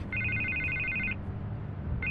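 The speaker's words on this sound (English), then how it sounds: "I can't get the phone to stop ringing." A telephone bell rings in Batman: The Telltale Series, a rapid trilling ring lasting about a second, pausing, then starting again over a low rumbling background.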